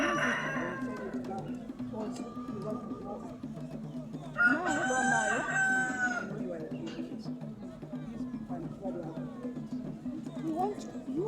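Village chickens cluck, and a rooster crows once clearly in the middle, near and moderately loud under ongoing talking.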